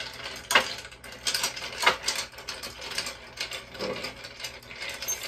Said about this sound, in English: we're just going to give this a little stir